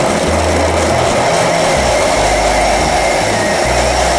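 A blender loudly purees tomato, onion and garlic for Mexican rice, giving a dense, steady whir with shifting low churning tones throughout.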